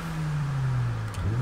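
A Honda EK with a '98 VTEC engine revs in Gran Turismo Sport, a steady loud droning engine note that holds level, then dips and climbs again near the end, with no one talking.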